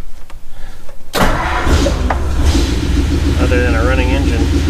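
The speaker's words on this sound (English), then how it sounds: "One last cold start for good times and great memories" A Ford flathead engine cranks and fires on a cold start, catching into a loud, rough, throbbing idle that runs steadily close by, with a voice speaking over it.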